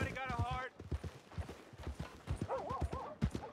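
Horse hooves clip-clopping in Red Dead Redemption 2, a steady rhythmic patter under continuous close talk, with a brief whinny-like tonal sound near the start.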